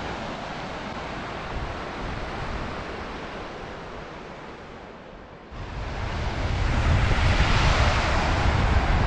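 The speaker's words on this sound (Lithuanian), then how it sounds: "Jūra graži, švari." Steady roar of Baltic Sea waves washing onto the shore at Smiltynė in January, mixed with wind, growing louder and fuller partway through, with no voices.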